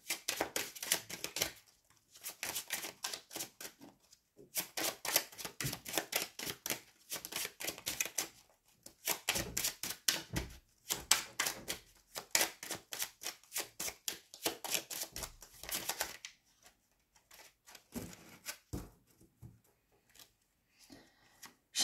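Rapid crisp riffles of a deck of cards being shuffled, several bursts of fluttering clicks separated by brief quiet gaps, close and fairly soft.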